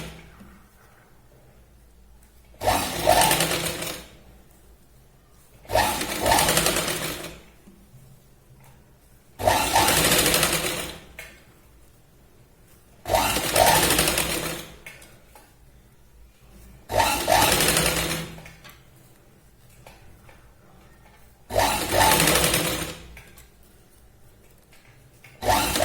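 A sewing machine stitching piping onto the centre of a blouse runs in six short bursts of a few seconds each, with quiet pauses between them, heard up close.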